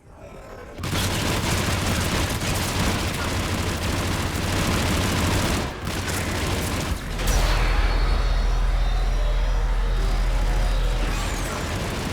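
Shuttle flying in the video game Mass Effect 3 during a battle on Earth, a loud sustained engine rumble that swells into a deep low drone, with booming weapon fire mixed in.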